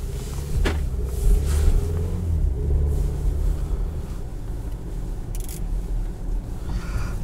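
A 2018 Audi Q5 Premium Plus with a 252-horsepower engine driving along, heard from inside as a steady low rumble of engine and road noise with a few faint knocks, no voices.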